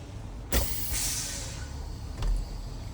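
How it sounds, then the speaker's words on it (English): A truck's parking and emergency air brake valves are pushed in, letting out a sharp, loud burst of air that fades into a steady hiss, followed by a second, shorter puff of air a couple of seconds later. "We're gonna push my parking brakes in."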